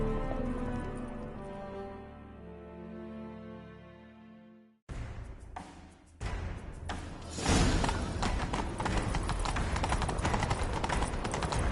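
Heavy horse hooves gallop in a fast, thudding rhythm in The Witcher 3 right after a sustained musical passage cuts off, loud and close, with whooshing motion around them.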